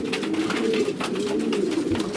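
Racing pigeons coo softly in a continuous, overlapping murmur, several birds close by with a steady rhythmic warble.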